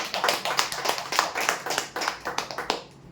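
Audience clapping at a prize draw for a shop's customer lucky-draw event, a dense burst of applause from a nearby crowd lasting a few seconds and fading at the end.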